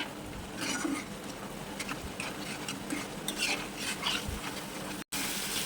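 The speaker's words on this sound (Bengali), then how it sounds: "মশলাগুলো দিয়ে আবারও ভালো করে আমি কষিয়ে নেব" Ground spices—chili powder, cumin, coriander, turmeric and salt—sizzle and fry in a pan for chicken bharta, with steady stirring scrapes and occasional utensil clinks, fairly close, no voices.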